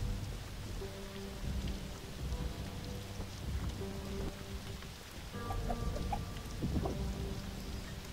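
Steady rain pours in a graveyard in the Spiral Knights video game, a constant wash over low music with rumbling thunder-like swells, no voices.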